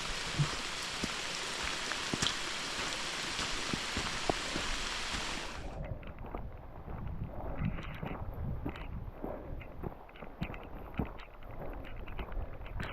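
Steady rain falls through bush on a day hike, a dense hiss of drops striking leaves and brush close around, brighter in the first half and then softer and lower, with no talking.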